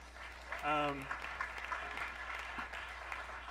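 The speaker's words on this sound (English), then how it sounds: "Another round of applause for Leigh Adams." Audience at a panel event on arts and homelessness applauding, a steady moderate patter of clapping with a brief voice rising over it early on.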